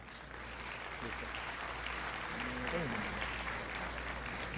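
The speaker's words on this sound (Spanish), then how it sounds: "lo recibimos con un aplauso, por favor" Audience applause welcoming a guest speaker at a summer academic event on software-defined radio in avionics: steady, dense clapping from a seated crowd that holds evenly throughout, with a faint voice under it.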